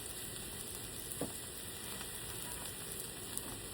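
Eggs fry on a Blackstone griddle with a steady, even sizzle and faint crackles, constant and moderately quiet with no talking.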